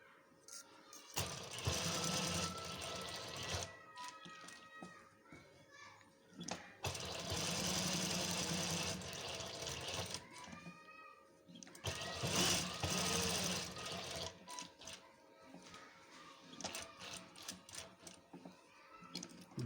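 Sewing machine double stitching a cloth face mask, running in several loud bursts of rapid mechanical chatter lasting a few seconds each, separated by quieter pauses with small handling noises.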